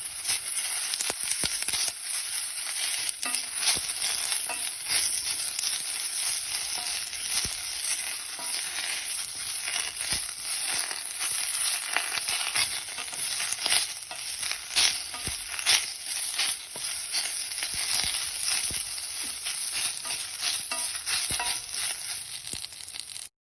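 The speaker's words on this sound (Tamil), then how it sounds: "ரொம்ப நேரம் வதக்கின அவசியம் வந்து சும்மா லைட்டாக வதக்கினா போதும்." Karpooravalli (ajwain) leaves lightly sautéing in a kadai: a continuous crackling sizzle with dense small pops and rustles, close and steady for the whole stretch, no voices.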